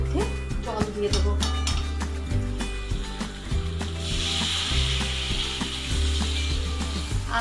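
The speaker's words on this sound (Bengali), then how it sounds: "এবার আমি এর মধ্যে জল দিয়ে দেবো।" Water goes into a pot of Bengali fish head curry with potatoes, rice and spices, setting off a loud, close sizzle and crackle along with stirring and occasional clinks from a utensil.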